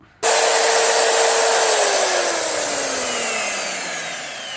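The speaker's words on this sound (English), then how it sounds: "Then I'm going to drill it." A power drill bites into wood, starting abruptly and whirring loud and close, its pitch sagging gradually as the bit works through the timber, with no voices.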